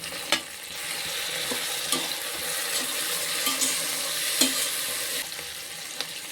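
Green chillies and tomato frying with onions in a pan for chicken biryani. A soft, steady sizzle is broken by occasional spoon taps and scrapes, heard close with no voices.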